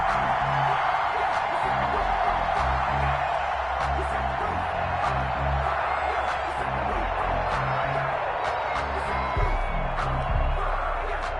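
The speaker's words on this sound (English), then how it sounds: "And this crowd into it early." Stadium crowd in a PS4 football video game, a steady low roar of cheering with faint whoops, kept under continuous game commentary and a rhythmic pulsing background throughout.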